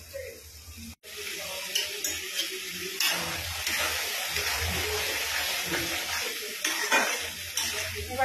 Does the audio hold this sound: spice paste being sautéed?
yes